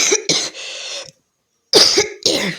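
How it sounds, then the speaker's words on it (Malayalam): Two bursts of harsh coughing from a person, a short pause, then two more coughs, loud and close, with no talking. "വീണ്ടും ചുമയൊക്കെ വന്നു കേട്ടോ"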